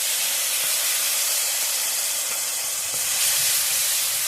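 Mango paste and ginger paste hitting hot tempering oil with cumin seeds, giving a steady, loud, broadband sizzle and hiss that holds evenly throughout with no talking.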